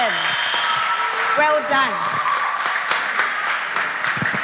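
A school quiz audience claps for a junior high team after points are read out, with a steady broadband clatter of hands under a voice speaking over it throughout.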